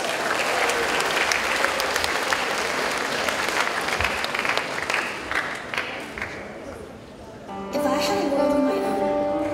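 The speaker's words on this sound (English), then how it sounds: "A hearty round of applause" Audience applause for a cosplay stage performance as Alice Liddell from Alice: Madness Returns at UniCon 2014, a dense, sustained crowd clapping that thins out before music-like tones come in near the end.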